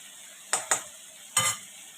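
Tomato paste with green chilli, ginger and garlic is stirred in a frying pan while cooking fish curry; three short sizzling scrapes of the spatula stand out close against a faint background hiss.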